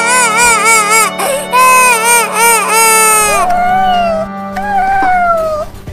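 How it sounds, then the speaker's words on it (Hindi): A small cat crying in a comedy sketch, loud, high, wavering wails repeated several times in quick succession, close and piercing, the later cries lower and more drawn out. "अरे वो छोटी बिल्ली को क्या हो गया? वो तो बहुत रो रही है।"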